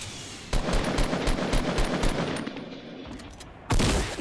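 Gunfire in Fortnite during a large team battle: a sustained, rapid machine-gun stream that is loud and close, ends with a sharper burst, and carries no speech.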